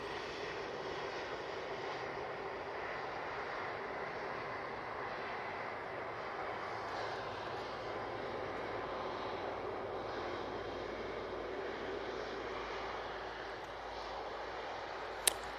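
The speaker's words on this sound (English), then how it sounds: "we've got this A330-300 coming in from Orlando" An Airbus A330-300 airliner arriving at Manchester Airport from Orlando, heard as a steady, moderately loud engine roar that holds evenly throughout with no voices.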